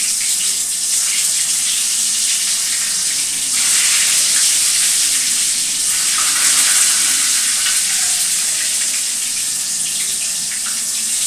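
Pointed gourd (potol) slices, rubbed with salt and turmeric, sizzle steadily in hot oil, a loud continuous hiss and crackle with small surges throughout and no talking.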